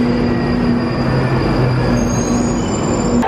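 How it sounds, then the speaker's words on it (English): A London Underground Northern Line train rumbles along steadily at close range, its wheels giving off high, drawn-out squeals over a constant loud roar for several seconds. "This is a Northern Line train bound terminating."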